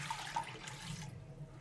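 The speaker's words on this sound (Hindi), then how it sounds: "ये हमारे पास 2-3 गिलास पानी है, ये हम डाल देंगे।" Two to three glasses of water poured into a pot of shami kabab ingredients, a steady splashing pour for over a second that then drops away, heard alone with no talk.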